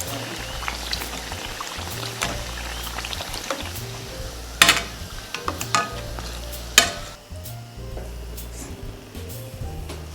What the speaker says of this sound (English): fry your bakes as dark as you like